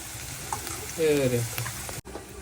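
Onions frying in a pan at home, a soft crackling sizzle with a brief stirring scrape near the middle, then a sudden short cut before the sizzle resumes.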